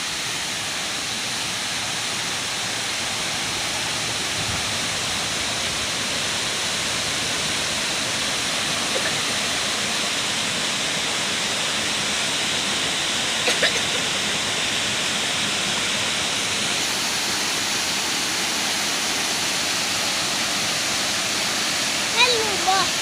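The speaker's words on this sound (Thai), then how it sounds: "ถึงแล้วนะครับ น้ำตกห้วยแก้ว" Huai Kaeo waterfall in Chiang Rai, Thailand, roaring as a constant broadband rush of falling water that stays steady and close throughout, with only a few faint clicks near the end.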